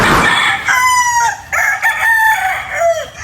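At a poultry farm, chickens and a rooster sound close and loud, with a rooster's drawn-out crow overlapping further crowing and clucking over a constant farmyard background.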